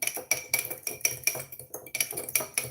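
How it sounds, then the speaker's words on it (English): A utensil stirring maple syrup into a mixture of red pepper flakes and brown sugar in a bowl, giving a steady rhythmic clink and scrape about twice per second, close and clear with no talking. "Stir in our maple syrup"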